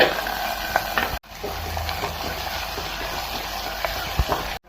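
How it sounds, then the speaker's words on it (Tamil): Fennel seeds, curry leaves, onion and tomato frying in hot oil, a loud continuous sizzle with scattered stirring scrapes and a brief cut near the start, heard close and alone without voices. "இப்போ சோம்பு போட்டுக்கலாம், இலை, கறிவேப்பிலை, கூடவே வெங்காயம் தக்காளி."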